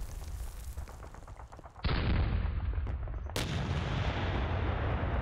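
An artillery gun fires in the war strategy game Panzer Battles North Africa 1941: two loud, sudden booming blasts, each followed by a sustained rumbling roar, with no talk.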